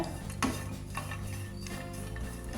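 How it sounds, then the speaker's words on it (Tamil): Dry ginger roasted over a medium flame and stirred in a pan, with a few soft scraping and clinking strokes of a spoon over a faint low hum, quiet and close. "சுக்கையும் நல்லா வறுத்தெடுத்துருங்க"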